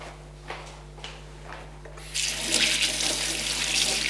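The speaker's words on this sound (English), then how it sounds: "Now what I'm going to do is wash my hands." A kitchen tap turns on and water runs steadily into a sink for hand washing, preceded by a few light clicks and knocks, the close rushing flow continuing to the end.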